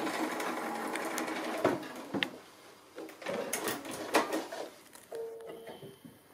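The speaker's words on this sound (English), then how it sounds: "I'm just going to stitch that in place just to hold it so that it doesn't move" Sewing machine stitching ribbon in place on a simple Christmas gift bag, short bursts of motor whirring separated by pauses and small handling clicks, fairly close.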